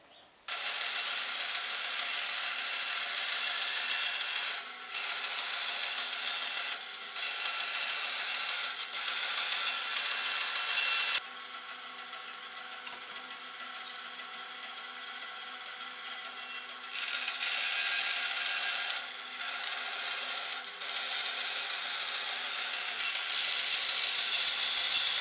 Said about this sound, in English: We're going to go ahead and trim the fretboard